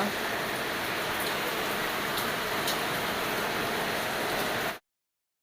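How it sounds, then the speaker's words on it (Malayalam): Heavy rain falls steadily outdoors, a dense, even hiss of drops on surfaces that continues unbroken for several seconds before cutting off abruptly. "ഇതാ പുറത്തൊക്കെ നല്ല മഴ കേട്ടോ"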